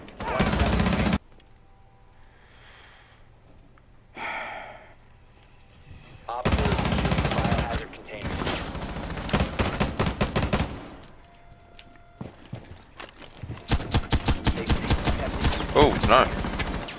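Rapid bursts of automatic gunfire in Rainbow Six Siege, loud and close, with quiet gaps between volleys, and a player talking now and then between the shots.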